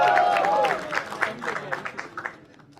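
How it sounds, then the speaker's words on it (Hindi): Audience applause at a comedy talent show, a brief burst of clapping under a voice that quickly thins into a few scattered claps and fades out. "एक बार जोरदार तालियां जेनी जी के लिए"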